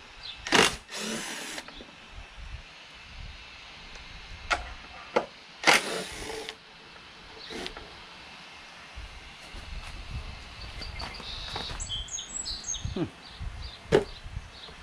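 Cordless drill with a 5/16 socket spinning out bolts on a Kohler Courage 19HP twin-cylinder engine, heard as a few short, close whirring bursts separated by quiet workshop pauses and small clicks.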